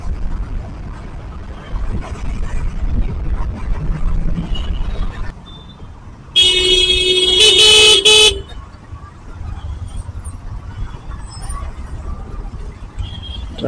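Heavy road traffic near Mettuguda metro station in Secunderabad, slowed by diversions around road construction, rumbles steadily. A loud, close car horn blares for about two seconds midway, and faint toots sound further off.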